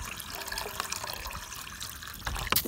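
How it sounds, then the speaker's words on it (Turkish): Water is poured into a camping pot for pasta at a forest campsite, a continuous close splashing gush that swells and thins, ending in a few sharp knocks. "Suyunu ekliyorum."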